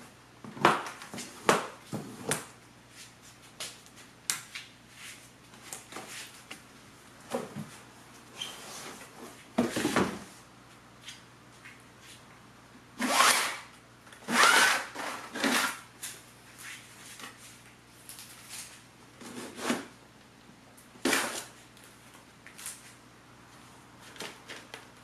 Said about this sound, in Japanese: それでは箱を開けていきます。